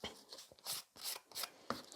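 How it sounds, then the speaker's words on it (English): A nail file works the free edge of a fingernail in short, soft rasping strokes, about five quick scrapes in an uneven rhythm, close but quiet. "We only filing the free edge."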